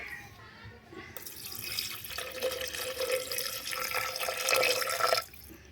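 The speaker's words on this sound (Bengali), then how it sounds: "এটা ম্যারিনেট করা হয়ে গেছে এখন দেব জল" Water pours from a tap into a pot of marinated goat trotters, a steady rushing splash that builds over several seconds and stops abruptly near the end.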